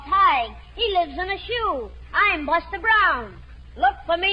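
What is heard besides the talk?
None of the usual background noises is heard.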